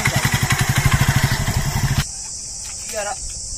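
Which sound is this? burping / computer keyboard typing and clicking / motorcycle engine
motorcycle engine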